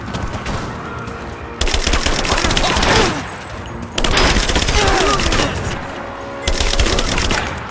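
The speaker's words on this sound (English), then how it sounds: "Laying down covering fire" Sustained automatic gunfire in a Rise of the Tomb Raider firefight, long loud bursts of rapid shots broken by short pauses, with faint game voices underneath.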